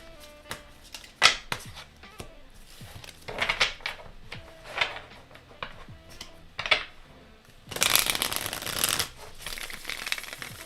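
Tarot cards are handled with soft scattered flicks and taps, then a quick riffling shuffle in a brief burst, nearby and fairly quiet.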